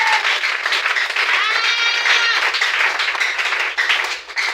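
A church congregation applauds during a French-language worship service, a dense, steady run of clapping from many hands that holds throughout and tails off slightly near the end.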